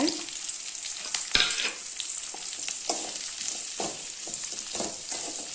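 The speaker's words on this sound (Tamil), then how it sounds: "எண்ணெயிலேயே நல்லா வதக்கிக்கலாங்க அடுத்து நம்ம பீட்ரூட் போட்டுக்கலாங்க" Beetroot sautéing in oil in a pan for a chutney, a loud continuous sizzle with repeated stirring scrapes and one sharp knock early on, no voices.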